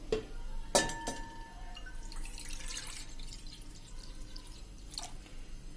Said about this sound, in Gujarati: પાણી નાખશું